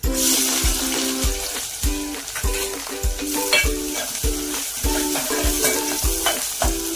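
Chopped onion sizzles steadily in a hot pan of oil for a vegetable pulao, with regular scraping strokes of a spoon stirring it through, loud and close with no talking.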